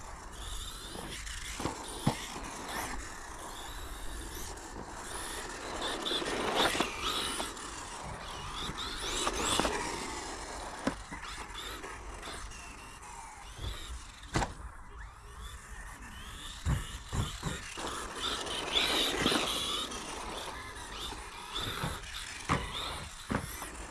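A radio-controlled car running concrete-track tires drives on indoor carpet, its electric motor whining up and down in repeated surges of acceleration and braking, fairly close and continuous.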